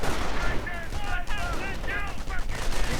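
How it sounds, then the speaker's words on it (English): Video game battle gunfire with German troops under fire, rapid overlapping shots and bursts crackling densely and fairly loud, with a voice faintly present underneath. "Germans getting caught in the middle, getting sniped, getting burned, getting shot"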